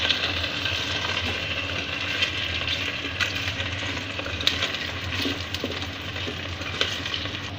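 Cut potatoes, about half a kilo, stirred with nigella seeds and spices in a hot pan, giving a steady low sizzle with faint scraping and stirring throughout, close and continuous without talk.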